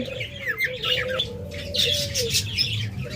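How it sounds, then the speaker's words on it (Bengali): A pair of large cockatiels calls from close by, a wavering whistled note running under bright, scattered chirps and squawks that come in overlapping bursts. "এখানে একটা মাস্টার পেয়ার ককাটেল জোড়া রয়েছে"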